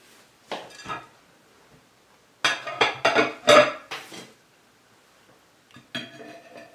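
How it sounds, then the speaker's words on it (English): Dishes, pots and pans clatter in a home kitchen while bacon cooks, with a couple of early clinks and then a dense cluster of sharp metallic knocks and rattles, close and loud, with no talking. "dishes might be loud"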